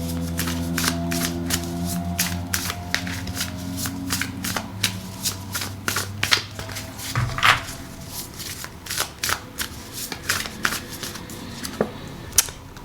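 A Price of Love oracle card deck is shuffled close up. The rapid riffling and papery flicks repeat in quick bursts, over a low hum that fades after a few seconds.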